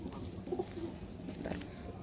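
Domestic pigeons coo softly nearby in a bird keeper's loft, with a couple of brief low calls over quiet room noise and no talking.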